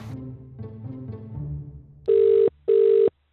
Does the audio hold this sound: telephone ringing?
yes